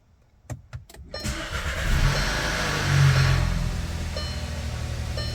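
A 2016-2019 VW Passat 1.8 Turbo starting up after a camshaft sensor replacement: a few clicks, the starter cranking, then the engine catching, revving briefly and settling into a steady idle, close and loud.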